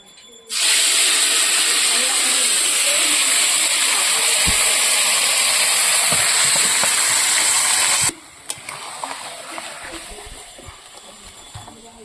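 Marinated meat dropped into hot oil with whole spices and bay leaves in a kadai sets off a loud, steady sizzle that lasts about eight seconds, then cuts off abruptly to a quieter background with faint clinks.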